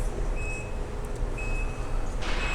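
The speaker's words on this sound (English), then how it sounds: "gives you a little warning beep." Warning beep from a 2012 Infiniti QX56 as its power trunk opens: a thin, high electronic tone sounds twice at a steady interval over a constant low rumble of engine or outdoor hum.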